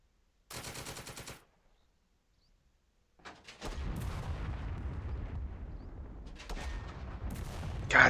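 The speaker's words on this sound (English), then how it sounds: "we have to just keep eating tank shells" Tank shell explosions in the war video game Second Front: a short harsh burst of blast noise, a pause of silence, then a long rumbling barrage of heavy booms that swells louder toward the end.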